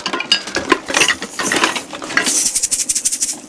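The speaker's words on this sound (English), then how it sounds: "Castanets." Real castanets played as live studio percussion, a rapid run of bright, clicking wooden clacks in irregular bursts that turn into a dense rattling roll near the end, close and fairly loud with no voices.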